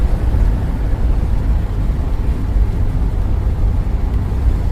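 A $500 Isuzu Trooper 4x4 bought off Marketplace drives down the road, its engine and road rumble a steady, loud low drone from start to finish with no talking.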